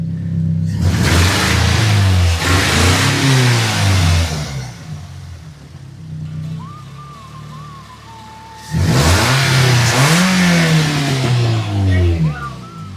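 A Toyota Yaris engine revs hard in two loud bursts with rising and falling pitch, separated by a quieter idle stretch carrying a faint wavering whine, all close by.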